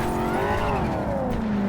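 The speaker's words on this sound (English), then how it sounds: "it does have a turbocharger on it" A turbocharged car in Cyberpunk 2077 revs hard and loud, its engine pitch sweeping up then settling back down over a short, continuous burst.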